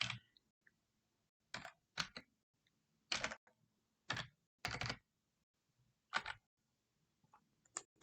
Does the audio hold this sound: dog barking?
no